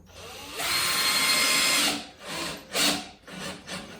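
A power drill drives screws into plywood for a small homemade 8-foot boat, giving a close, loud whirring burst followed by several shorter bursts.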